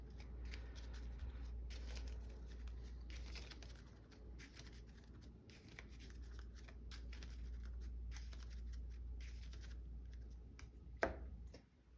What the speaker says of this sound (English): Let's shuffle because I saw what it was.